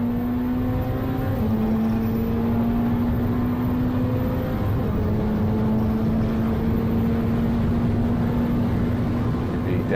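A Ferrari Challenge race car at Road America, its engine holding a loud, steady drone that steps in pitch with gear changes as it pulls hard down the track, with no voices.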